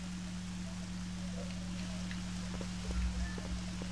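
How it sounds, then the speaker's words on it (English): Rain falls in a graveyard in the video game The Legend of Zelda: Twilight Princess, a quiet, steady wash of patter over a low droning hum, with a few soft thuds near the end. "You have to make the rain stop."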